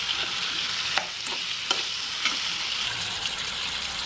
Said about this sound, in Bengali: মশলার সঙ্গে মাংসটাকে ভালো করে মিশিয়ে নিয়েছি